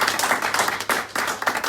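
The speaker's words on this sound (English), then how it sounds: "Let's give them a big round of applause." Crowd applause and clapping at a grand opening of a second office location, greeting the founder and his wife; dense, steady clapping with a brief dip and a fresh swell near the end.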